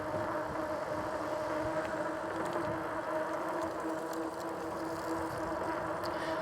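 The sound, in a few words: whining of big fat e-bike tires riding on the road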